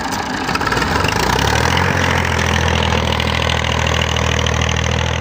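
A tractor engine runs while ploughing a field in rural Punjab, a loud close diesel drone with a steady low throb that settles into an even running rhythm. No voices are heard.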